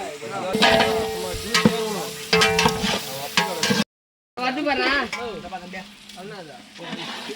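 Tomato frying and being stirred in a pan, steady sizzling with scraping stirs, close and fairly loud, with people talking over it.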